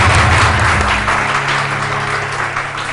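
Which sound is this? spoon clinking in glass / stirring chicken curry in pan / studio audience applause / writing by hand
studio audience applause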